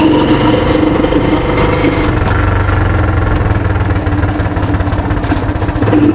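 A motorcycle engine running loudly and steadily up close, with a rough throbbing idle and a slight change in pitch partway through.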